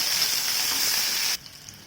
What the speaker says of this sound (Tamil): வெங்காயம் கொஞ்சம் பொன்னிறமாகட்டும், அது வரைக்கும் நல்லா வதக்கி விடலாம்